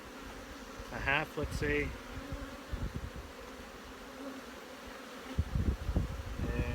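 Honey bees buzzing around an open spring hive during a colony inspection, a continuous low drone close by, with someone briefly speaking over it and a few handling knocks.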